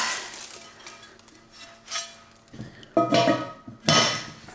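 A cast iron pot and its cast iron lid being handled, with scattered metallic clinks and knocks that grow louder and heavier toward the end, sounding close and alone.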